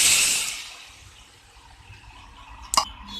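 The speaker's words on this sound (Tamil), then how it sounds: "இதுல வந்துட்டு நான் ஒரு கப் அளவுக்கு பால் விட போறேன்." A cup of milk pours into a pan of roasted vermicelli for payasam, a brief hissing splash at the start that fades to quiet, then a sharp clink near the end.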